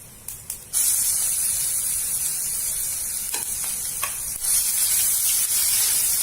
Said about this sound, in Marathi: मोहरी चांगली तळतळली पाहिजे नंतर जिरे आलं लसणाची पेस्ट